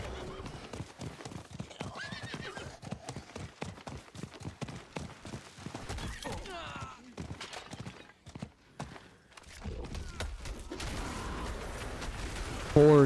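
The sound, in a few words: horse hooves and neighing in video game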